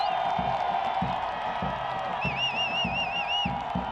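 Soccer stadium crowd at a Phoenix Rising FC versus Real Monarchs SLC match roars with a steady, loud wash of cheering, rhythmic thumps of drums or clapping pulsing underneath and whistle-like tones rising over it.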